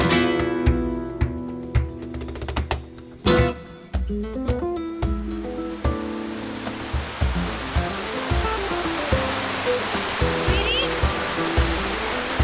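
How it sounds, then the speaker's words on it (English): A waterfall in the Yucatan, Mexico, rushing with a dense, steady roar that swells in as music fades out during the first half. "we could dismiss this waterfall as smaller or less impressive"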